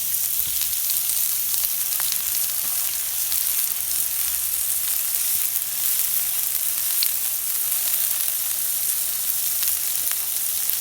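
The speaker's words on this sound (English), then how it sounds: "I'm gonna put these green onions in here." Green onions sizzle and fry on a STOK drum grill next to sirloin steaks, a loud, steady hiss lasting throughout with faint pops and no voices.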